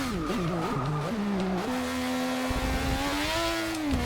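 Engine of Ayrton Senna's McLaren Honda MP4/4 Formula One car in Forza Motorsport 6, loud and close, revving up and down with quick manual gear shifts before settling into a sustained high-pitched drone.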